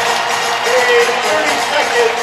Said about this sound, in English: And this crowd has gotten real loud really quick.